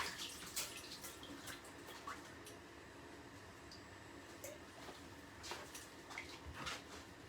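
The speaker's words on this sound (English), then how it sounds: "Going to give this a bit of a wash." Fresh herbs rinsed under running tap water in a kitchen, a quiet steady stream with faint splashes and drips, no talking.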